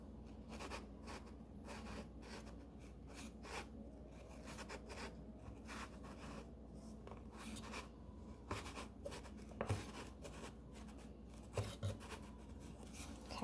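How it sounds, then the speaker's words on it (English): A knife trims excess fondant away at the base of a covered cake, producing soft, faint scraping and slicing strokes in an irregular rhythm over a low background hum, close but quiet with no talking. "we're going to take a knife, and we're just going to come in at an angle and cut off that excess at the base"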